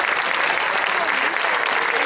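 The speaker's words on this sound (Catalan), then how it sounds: "Un fort aplaudiment per a les anfitriones d'esta trobada, la colla sardanista i les jotes del Tebre." Loud, dense audience applause at a sardana and jota folk dance gathering in Deltebre, a steady unbroken wash of many hands clapping for the host groups.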